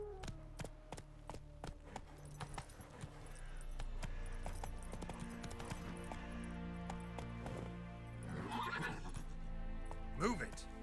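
Roach, a horse in The Witcher 3 game, moves along with steady hoof clip-clops and jingling tack, ending in a faint whinny, all fairly quiet.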